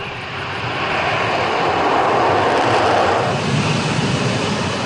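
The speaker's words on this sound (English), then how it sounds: "Once the jet starts moving, it doesn't take long to take off." An F-35B short-takeoff, vertical-landing fighter jet takes off with a loud, close roar that swells over the first second and holds as a broad, sustained engine blast.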